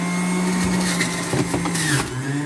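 A steady motor whir hums throughout from an electric juicer blending green juice close by, with a sustained low drone and some rattling grind.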